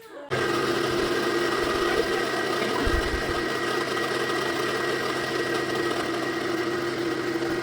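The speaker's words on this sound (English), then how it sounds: "Make sure your mixer speed is on low when you do this so you don't end up in a snowstorm" An electric stand mixer runs on low speed beating cake batter for a vanilla cream cheese bundt cake, a steady close motor whir with a faint rhythmic rattle throughout after it starts.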